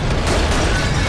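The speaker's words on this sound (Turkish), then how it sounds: "Patlama sesi ve efekti." A dense, loud explosion sound effect from the game GTA IV rumbles as a continuous roaring burst with heavy low end, lasting about a second with no talking.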